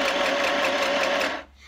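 A sewing machine stitches a cushion in one steady, close whirring run that stops abruptly near the end, leaving quiet room tone.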